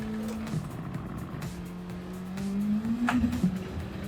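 A race car in Gran Turismo 7 holds a sustained engine tone that dips, then climbs in pitch under acceleration, with light tyre squeal and a few sharp clicks near the end.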